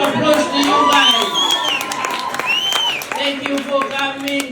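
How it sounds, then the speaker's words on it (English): A live comedy show audience in Rwanda applauds and cheers, with clapping, whoops and crowd shouts swelling together over several seconds at close range. "Round of applause to you guys"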